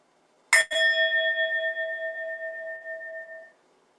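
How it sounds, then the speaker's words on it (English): A high-pitched meditation bell rings once, struck near and clear with a bright metallic attack, then a steady shimmering tone that fades slowly over about three seconds, alone in a quiet room. "For our inhales, we'll use the high bell, which sounds like this."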